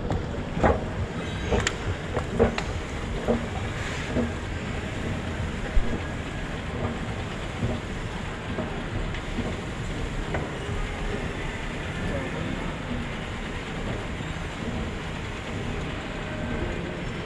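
A shopping-mall escalator carries riders downward, giving off a steady low mechanical rumble with faint clicks and distant indoor ambience, with no one talking.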